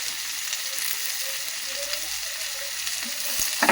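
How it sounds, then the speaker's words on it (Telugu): Tamarind pieces fry in a pan over a low flame, giving a steady, close sizzle with faint stirring and no talk. "లో ఫ్లేమ్లో మంచిగా ఫ్రై చేసుకోవాలండి."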